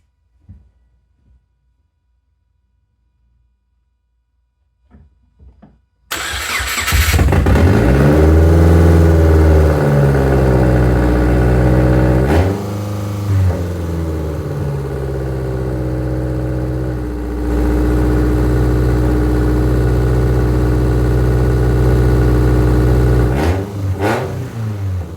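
A 2006 Subaru Forester with a newly installed exhaust manifold cranks and fires after a few quiet seconds, then revs loudly and steadily close by, the engine note rising and falling over about twenty seconds.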